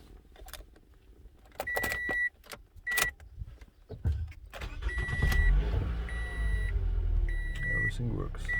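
A 2016 Toyota Camry is remote started: key fob and lock beeps and chirps sound first, then the engine cranks and settles into a steady close idle, with a repeating electronic chime and a voice speaking briefly.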